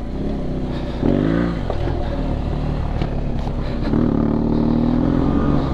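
A BMW F800GS motorcycle ridden on the road, its engine droning steadily with two rises in throttle and a constant rush of wind, close and continuous with no talk.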